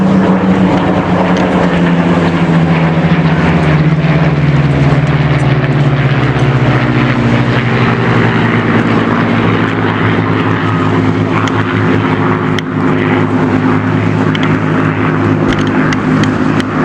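Spitfire propeller fighter flying a Battle of Britain Memorial Flight display, a loud continuous engine drone with a slowly falling pitch as it passes, sustained throughout with no talk.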